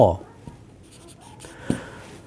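A pen scratches across paper while math is written out, faint strokes heard beneath nearby talking.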